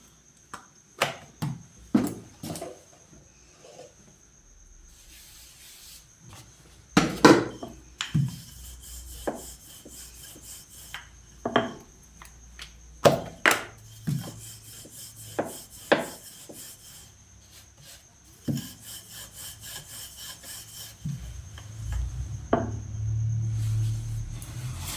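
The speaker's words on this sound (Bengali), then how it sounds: "আমি একটা একটা করে সব পরোটাগুলো বেলে নিচ্ছি" Paratha dough being rolled out with a rolling pin on a board, with repeated knocks and scraping rubs in irregular bursts, fairly close, and a steady faint hum behind them.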